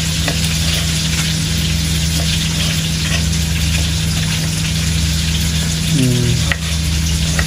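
Fish frying in a pan of hot oil, a steady loud sizzle running throughout, with a brief clatter of stirring or handling near the end.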